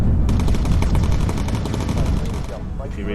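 A bomber gunner in the game Bomber Crew fires a machine gun in a rapid, sustained loud burst that stops just before the end, with a voice talking over the gunfire.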